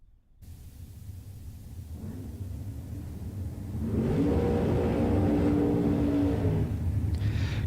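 Dragster race cars at a drag strip build from a distant whir into a loud, steady engine roar that rumbles on, heard from afar with no talk.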